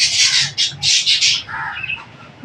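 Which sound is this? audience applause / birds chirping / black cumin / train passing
birds chirping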